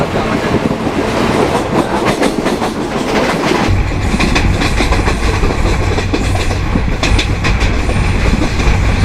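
A Konkan Railway train in India runs along the tracks with a loud, continuous rumble and rhythmic wheel clatter that grows heavier midway, with no voices.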